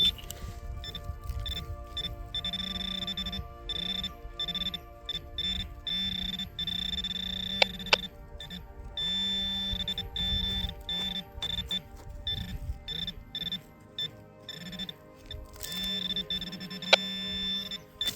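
Metal detector searching for coins, giving repeated electronic signal tones in short pulses with steady beeping and a low hum, no talk.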